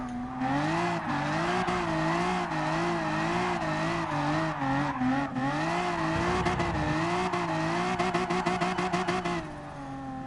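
A car drifts in the racing game GT Sport, its engine held high and wavering with throttle changes while tires squeal continuously at a loud, steady level.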